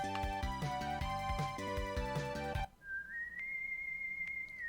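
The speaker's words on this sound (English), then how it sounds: "I know that whistle." Proto Man's whistle tune from the SNES game Mega Man 7 plays as a clear, sustained melodic whistle after a burst of game music cuts out, steady and alone with a couple of faint clicks.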